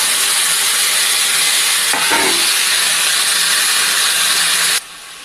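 Mixed vegetables (carrot, peas, capsicum, onion, potato, tomato, beans) hit a hot pan for sago pulao, giving a loud steady sizzle and hiss with a brief clatter of stirring partway through, then the sound cuts lower near the end.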